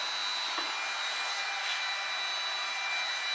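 A DeWalt heat gun runs on its high setting, a steady, fairly quiet broadband whoosh of blowing hot air with no pauses throughout.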